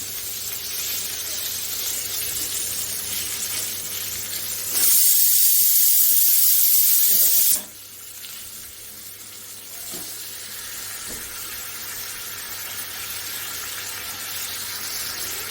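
Pomfret fillets shallow-fry in a pan with a loud, bright sizzle that bursts up for a few seconds when the fish is flipped, then settles to a steady, quieter crackle.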